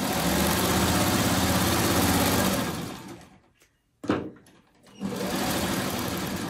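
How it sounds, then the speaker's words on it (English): A sewing machine runs steadily while stitching freeform quilt block pieces, a loud continuous hum that stops briefly, gives a short burst, then resumes. "I'm just going to sew across there."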